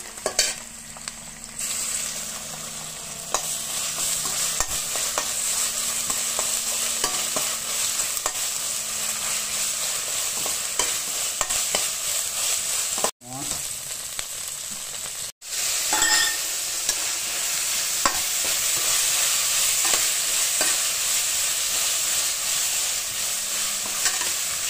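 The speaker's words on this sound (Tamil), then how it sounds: "இஞ்சி பூண்டு பேஸ்ட் போட்டுக்குவோம்." Ginger garlic paste fries in hot oil for dalcha, a lentil and meat side for biryani, giving a steady, close sizzle with stirring scrapes throughout and two brief pauses midway; no one speaks.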